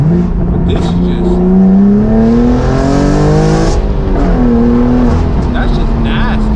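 A straight-piped BMW M4 G82 with downpipe and titanium exhaust revs hard and loud, raw and climbing in pitch, then drops back and surges again, filling the whole clip up close.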